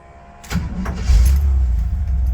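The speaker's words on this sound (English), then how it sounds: "She starts with the fire touch of the key." A 1955 Willys Wagon engine turns over with a key, with a brief crank and catch, then rises into a close, rumbling idle that continues to the end.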